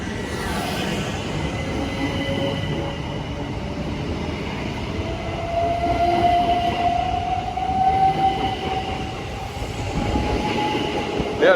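A train runs through Headcorn station in Kent, a loud steady rumble of wheels on rail with a rising, sustained wheel squeal across the whole passage and no talking.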